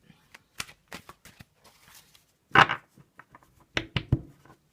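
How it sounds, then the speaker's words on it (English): A deck of double-sided cards is shuffled up close for a daily card reading, giving soft irregular riffles, taps and clicks with quiet gaps between them and a couple of louder flurries. "I've given those a good shuffle"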